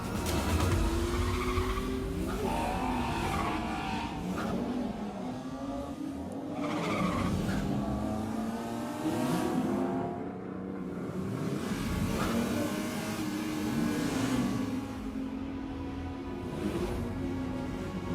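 BMW car in a campaign video, tires squealing and skidding while the engine revs and accelerates hard, loud and continuous throughout with racing-style swerving sounds.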